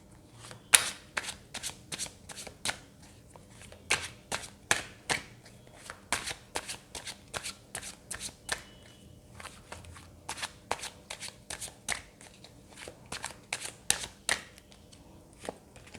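Tarot cards are shuffled in repeated bursts of crisp riffling, each lasting under a second and separated by short pauses, close and clear with no voice.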